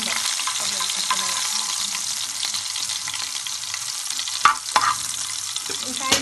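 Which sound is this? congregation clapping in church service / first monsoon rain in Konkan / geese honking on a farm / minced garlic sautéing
minced garlic sautéing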